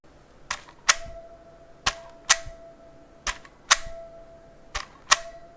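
Keys click on a Redragon K530 Pro mechanical keyboard in a quiet room, sharp separate strokes in loose pairs, each followed by a faint lingering metallic ping.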